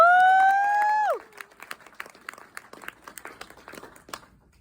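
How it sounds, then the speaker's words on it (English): At the Frightmare in the Falls 2024 horror convention panel, a sustained rising-and-falling tone cuts off, followed by scattered, fairly light audience claps continuing sparsely to the end. "Let's give him another round of applause, folks"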